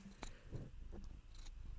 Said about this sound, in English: Are you going to purr into the mic?